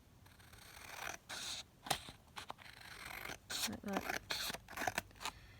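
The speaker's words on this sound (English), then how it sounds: "So let's just cut that down." Scissors snip down a grungy paper journal card in short, sharp bursts of cutting and scraping, close up, with someone talking briefly between cuts.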